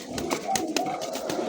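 A pigeon cooing up close, with a few soft, throaty coos repeating over a low background hum.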